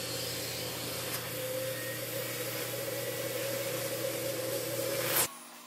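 Carpet cleaning extraction machine running steadily, a loud continuous broadband suction roar with a low motor hum, ending abruptly as the machine shuts off.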